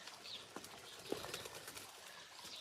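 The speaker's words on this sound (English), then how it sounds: "Pigeons are going crazy outside." Pigeons outdoors, heard faintly from inside: a brief flutter of wings and a soft coo, low in level and partly masked by room noise.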